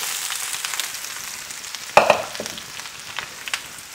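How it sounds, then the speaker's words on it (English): Sliced onions dropped into hot oil in a nonstick skillet over medium heat for caramelizing, a sudden burst of sizzle and a clatter as they land, then a steady close frying hiss. "heat the oil over medium heat until it is hot but not smoking. Then add the onions."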